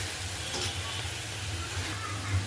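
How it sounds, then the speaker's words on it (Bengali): Thankuni (Asiatic pennywort) leaves frying in a pan, giving a steady, soft close sizzle and hiss that runs evenly throughout with no talk. "হয়ে গেল আমার থানকুনি পাতা ভাজা।"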